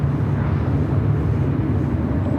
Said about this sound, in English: Qantas flight 11 coming in from Sydney, Australia